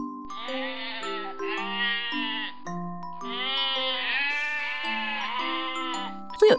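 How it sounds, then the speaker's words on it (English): A sheep bleats in a series of wavering, quavering calls, close and clear, with a short pause between two main bursts and no speech. "And this is a sheep."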